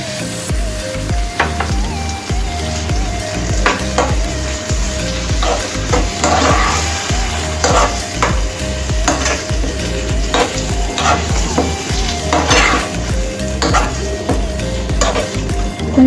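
Curd being stirred into a capsicum curry in a pan, a continuous sizzle with repeated scraping strokes of a spoon against the pan and occasional clinks, close and steady for the whole stretch.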